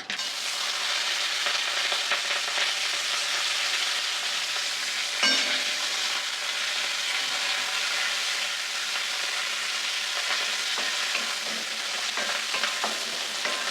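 Curry leaves and green chillies crackle and sizzle in hot tempering oil for a lady's finger and peanut fry, a dense, steady, close frying hiss with faint stirring scrapes and one sharper pop partway through.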